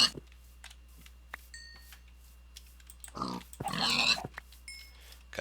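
Pigs oinking in Minecraft: a few short, faint grunts among scattered keyboard clicks, then a louder burst of squealing and hits near the end.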